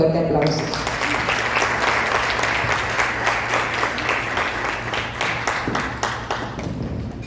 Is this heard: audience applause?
yes